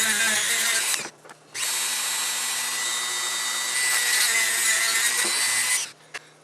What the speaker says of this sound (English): now we've got a sanding bit, and we're just going to round out, you know, those sharp edges